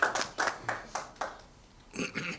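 A mushaira audience in a hall with distinctive acoustics claps, giving five or six loud bursts of applause in quick succession, then a short pause and a final flurry, close and fairly faint overall.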